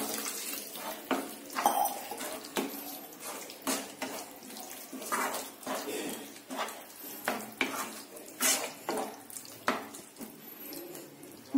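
Water pours and sloshes into a pan of cooking egg masala, with clinking of utensils and stirring scrapes throughout, fairly close and steady.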